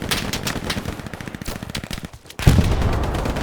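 Machine gun fire in the World War II shooter game Hell Let Loose, a rapid rhythmic burst of close, loud shots followed by a brief lull and then a heavier, booming blast with continued rumbling.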